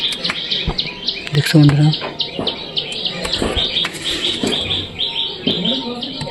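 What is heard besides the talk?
pigeons cooing in a loft, sitting on eggs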